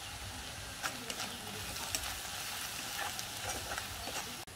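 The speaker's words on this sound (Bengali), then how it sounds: "তেলের উপর মশলাটা দিয়ে একটু ভেজে নিয়েছি" Ground spices of salt, turmeric, chilli and cumin fry in hot oil in a pan, giving a steady close sizzle with light stirring scrapes throughout and no talk.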